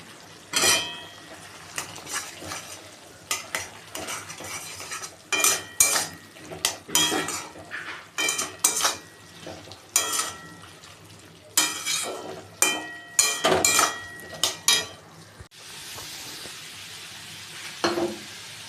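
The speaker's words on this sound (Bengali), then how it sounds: "যে আদাটা আমি ছেঁচে রেখেছিলাম হামানদিস্তায়, তো সেই আদাটা আমি এখন দিয়ে দিচ্ছি।" Crushed ginger added to a hot pan and stirred, with repeated close scrapes and clanks of a utensil against the metal over a soft background sizzle, with no talking.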